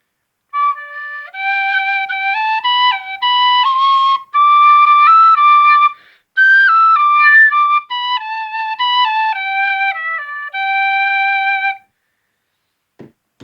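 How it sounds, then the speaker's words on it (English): A wooden D tin whistle plays a simple melody alone, clear and close, with bright stepping notes and short breaks between phrases. "And then here is a regular D whistle."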